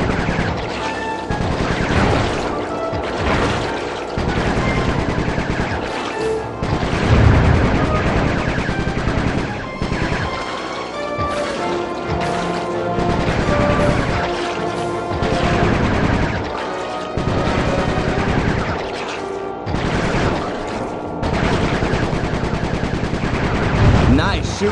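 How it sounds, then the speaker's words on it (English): Gunfire from the Sly Cooper 3 video game, loud rapid bursts of shots and crashes over a busy game soundtrack, continuing almost without pause with brief gaps between volleys. "Nice shooting, Bentley."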